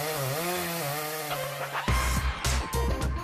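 A chainsaw in a TV commercial pulls over and revs, its engine climbing in pitch before a series of rough, loud bursts and cutting roars.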